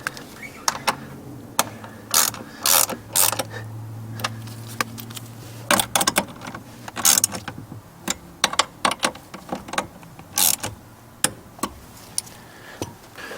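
Ratchet wrench tightening the knee airbag bolts inside a Mazda dashboard, heard as bursts of rapid clicking with short pauses between strokes, close and fairly loud, with no talking.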